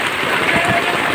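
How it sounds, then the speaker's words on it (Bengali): Heavy rain pours down in a village, a dense, loud, steady hiss of drops hammering surfaces with no break. "কি যে বৃষ্টি!"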